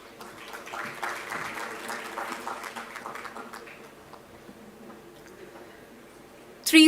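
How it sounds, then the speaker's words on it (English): Scattered applause from a convocation ceremony audience rises and gradually thins out, a soft patter of clapping at moderate distance that fades toward the end before a brief loud bump. "Please give a huge round of applause, everybody."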